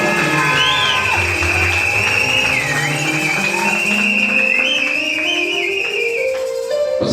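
Wedding guests cheer loudly as the rings are brought forward, a sustained mix of crowd noise with whoops and high ululating or whistling tones over the whole stretch.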